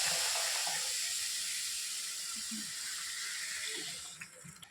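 Hot water poured into roasted semolina (rava) for ghee kesari, giving a steady broadband hiss and sizzle that fades toward the end, with no talking.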